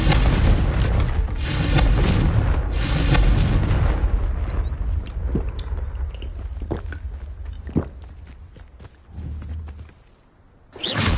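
A Confringo fire-blast spell from the video game Hogwarts Legacy goes off as a loud, booming explosion with a heavy low rumble, followed by crackling debris and scattered clicks that fade out, with no talking.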